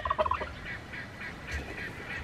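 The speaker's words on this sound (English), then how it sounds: "All the turkeys are strutting their stuff. They're looking, they're talking to each other." Bourbon Red turkeys call to one another outdoors, with a quick run of honking gobble notes at the start and then fainter repeated calls over a soft, steady background.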